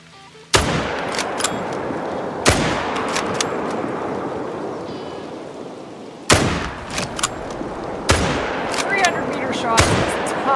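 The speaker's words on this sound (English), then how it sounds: "let's take a long-range 300-meter shot on this alligator" In the Call of the Wild hunting game, a long-range rifle fired at an alligator produces several sharp, loud cracks spaced a few seconds apart, each with a rolling echo over an outdoor ambience.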